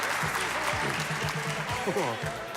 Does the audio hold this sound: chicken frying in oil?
no